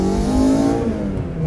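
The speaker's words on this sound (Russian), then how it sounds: "Выхлоп у них всегда какой-то получается одинаковый." A tuned VAZ 2114 hatchback with a modified exhaust revs close by, giving a loud, throaty engine drone that rises and then eases off over a second and a half.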